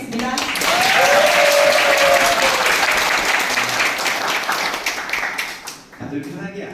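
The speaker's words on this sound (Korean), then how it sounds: "더불어민주당 당대표 후보 박찬대 후보님의 모두 발언을 큰 박수로 청해 듣겠습니다" Audience applause fills a packed youth meeting room at the National Assembly, with loud sustained clapping for about six seconds that fades sharply, leaving a few scattered claps and murmuring voices.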